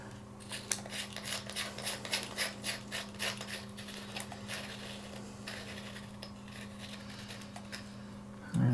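ND32 filter screwed onto a DJI Phantom 4 drone camera: faint, close ticking and rubbing clicks from small threaded parts over a low steady hum, thinning out toward the end.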